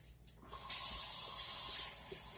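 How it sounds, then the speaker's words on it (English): A kitchen sink tap runs while hands are washed under it, a bright hissing stream of water lasting just over a second, with faint handling noises before and after. "Now I'm going to wash my hands and then I'll put the lid on for you guys."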